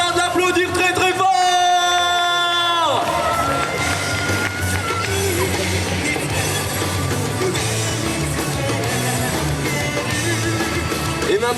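Crowd at a cosplay parade at Otaku Festival Châlons cheering and applauding loudly for a Japanese cosplayer, a dense sustained roar of claps, whoops and shouts after a brief musical phrase, with a host's voice over it.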